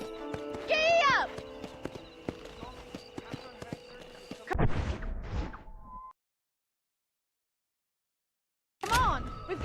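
Horse hooves clip-clopping at a steady rhythm in Red Dead Redemption, with a whinny near the start and someone talking over the hoofbeats before the sound cuts to silence and briefly returns.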